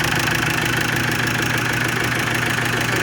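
Motorhome engine runs at a steady idle with a rough, shaking, knocking pulse, a loud continuous mechanical drone heard close up with no talking.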